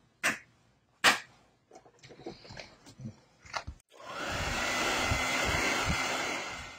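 Several knocks and soft handling noises come first, then a hair dryer starts and blows a steady, fairly close whoosh over wet paint on a winter farm scene painting.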